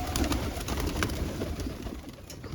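Pet pigeons coo in soft, repeated throaty calls, close by and steady, with no talk over them.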